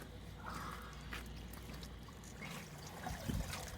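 Water from an RV portable washing machine drains and trickles faintly and steadily, with a brief splash near the end.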